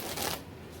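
A deck of playing cards riffles during a push-through false shuffle, a quick close-up flutter that peaks briefly and then fades into soft handling.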